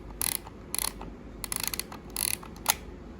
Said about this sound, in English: Turn the gear to advance the film until it stops turning.